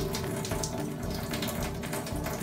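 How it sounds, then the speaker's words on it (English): Bees being shaken and agitated in a container of dish-soap water at a sink, a steady, continuous sloshing and running-water wash throughout with no talk. "just add some water to the top of it here and then just give it a good shake like this"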